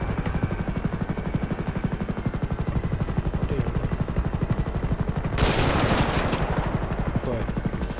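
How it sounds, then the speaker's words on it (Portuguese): Sniper rifle shot from a helicopter in the game GTA 5, under the steady rapid thudding of rotor blades, with one sharp, loud burst near the middle that decays over about a second. "Já pode disparar lá o alvo."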